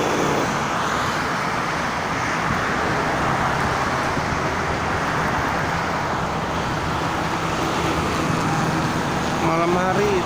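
Dense evening traffic fills a toll road heading toward Jakarta. Steady, loud roadway noise and the hum of cars and heavy vehicles run without a break and sound fairly close.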